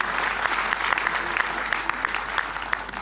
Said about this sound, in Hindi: तो इसके लिए तो जोरदार ताली बजा दीजिए भाई।